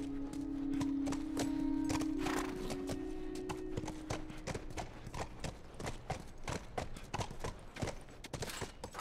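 Horse hooves clip-clop at a steady walking rhythm in The Last of Us, crisp and close, with a low sustained tone under the first half.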